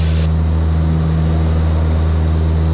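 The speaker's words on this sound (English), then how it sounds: "That noise is called thrumming." A light aircraft with twin propellers at unmatched RPM drones loudly and steadily from inside the cabin, a low, sustained engine hum with a slow beating throb and no voices.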